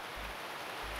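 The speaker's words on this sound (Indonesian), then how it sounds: "Hujannya deras banget ya" Heavy rain pours down outdoors as a steady, dense wash of noise with no voices, filling the whole second.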